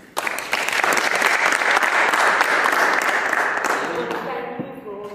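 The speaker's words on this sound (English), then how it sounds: "let's give a little applause for her" An audience at a Center for Global Responsibility event bursts into applause, a loud, dense round of clapping that starts suddenly, holds steady, then tapers away.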